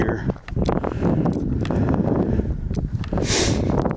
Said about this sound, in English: It's starting to get kind of windy up here.